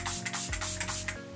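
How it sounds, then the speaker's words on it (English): D'Alba spray serum mists from a pump bottle in a rapid series of short, close hissing sprays, a few quick bursts one after another. "I'm going to just use this D'Alba spray serum."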